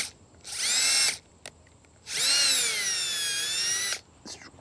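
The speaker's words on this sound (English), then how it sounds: "take your time, go slowly with this drill bit" A power drill whines in two bursts, drilling a hole in a Ford F250 for an antenna mount, a short one and then a longer sustained run, its pitch shifting slightly under load, with brief quiet pauses between.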